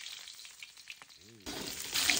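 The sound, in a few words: stirring food frying in a pan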